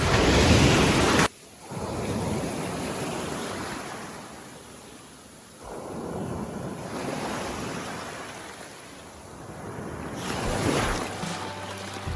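Black Sea waves washing onto an open public beach in Chornomorsk in long surges and retreats, with wind buffeting the microphone and an abrupt knock at the start.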